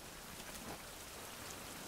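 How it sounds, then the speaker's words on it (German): Steady rain falling in the survival video game Fountain of Youth: a dense, even hiss of close rainfall with no breaks and no voices. "So, es regnet schon wieder."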